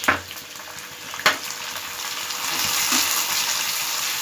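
Three roughly chopped tomatoes sizzle in a pan over a high flame for a paneer butter masala base, a steady hissing fry with a couple of brief stirring clatters and no talk.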